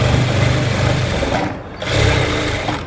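Sewing machine stitching cloth as the fabric is lifted and fed slowly, a steady close whirring run that pauses briefly midway and then resumes.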